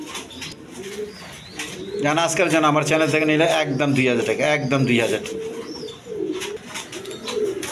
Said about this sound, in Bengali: দর্শকবৃন্দ এখানে এক পেয়ার কবুতর আছে, রেসার কবুতর